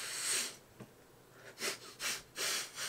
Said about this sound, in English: Blowing your nose.